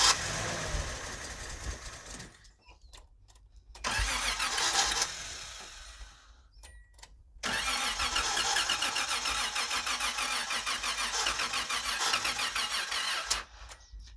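Project Z car engine cranking on a weak battery in three long bursts with short pauses between, the starter grinding loudly and steadily without the engine catching.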